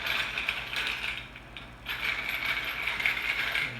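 A pepper mill cracks black pepper onto a pizza before it goes into the oven, giving a steady, close ratcheting grind with a short pause partway through.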